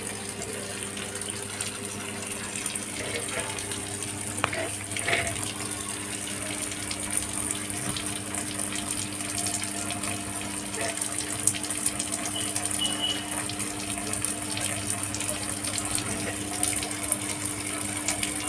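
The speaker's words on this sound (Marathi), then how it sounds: "आता हे फुलदाणीचे फुलं धुवून घेणार आहे" A kitchen tap runs in a steady, continuous stream as vase flowers are washed. The flow stays close and even throughout, with faint clinks and handling noises under the gush of water.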